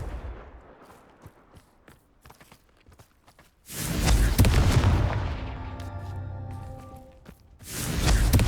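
Hogwarts Legacy Confringo fire spell: after soft footsteps and faint clicks, a loud booming blast rolls out and decays over a few seconds, then another burst hits near the end.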